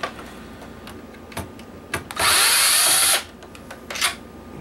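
A power drill backs screws out of a PlayStation 3 CECHA01 motherboard in one loud, steady whine lasting about a second, set between a few softer clicks and handling knocks.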